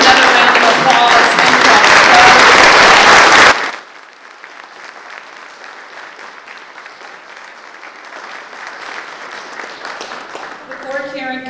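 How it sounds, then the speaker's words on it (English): Audience applause fills a candidate forum for county clerk and commissioner races, loud and dense for about three and a half seconds before cutting off, leaving faint room noise and later a speaking voice. "Let's give them another round of applause."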